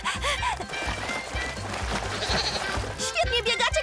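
Cartoon goats bleat in quick, wavering cries over a busy animated scene with music, and a character's voice can be heard amid the animal calls.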